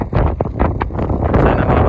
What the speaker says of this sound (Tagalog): Ang lamig, lakas ng hangin